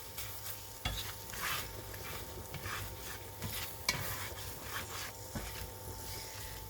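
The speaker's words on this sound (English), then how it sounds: "I can see this is boiling like crazy" A pot bubbling hard on the stove while fettuccine cooks, a steady hissing, sizzling wash with soft rubbing and stirring scrapes, close and fairly quiet, with a few sharper knocks.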